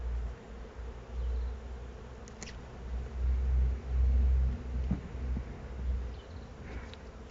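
Honeybees buzz steadily around an open hive during a feeding check, a continuous low drone that swells and fades as the insects move close to the listener, with no talk over it.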